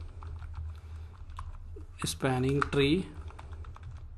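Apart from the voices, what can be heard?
typing commands on a computer keyboard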